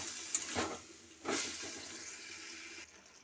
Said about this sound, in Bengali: আলু আর ছোলা বাঁধাকপি সেদ্ধ হওয়ার জন্য জল ঢেলে দিচ্ছি।